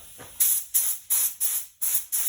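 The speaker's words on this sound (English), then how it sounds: "I've given this just a light coat of etch primer" Spray gun laying a light coat of etch primer onto a Harley Davidson part, five short bursts of hissing spray in a steady rhythm, close and fairly loud with brief silences between.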